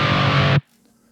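Electric guitar chugging through a Boss ME-25 multi-effects unit on high-gain distortion, in a low tuning: a dense, loud distorted palm-muted burst that cuts off abruptly into silence.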